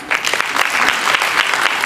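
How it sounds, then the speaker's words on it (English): A conference audience breaks into a short burst of applause for a panelist, close and lively with dense overlapping claps. "Please let's give her a big round of applause."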